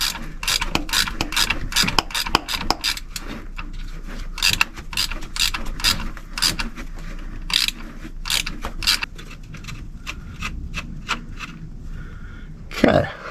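A hand ratchet works a bolt loose from the starter of a 2001 Dodge Grand Caravan 3.3 V6, giving rapid, close, uneven bursts of sharp clicking with brief pauses, then a final louder clunk.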